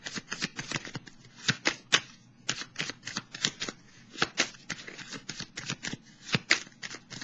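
Tarot cards are handled and laid down during a reading, giving a quick run of crisp, close riffling snaps and soft taps in an irregular rhythm, with no talking.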